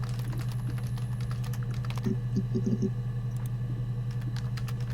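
Short burst of typing on a computer keyboard, a handful of quick light key clicks clustered together over a low steady hum, no talk.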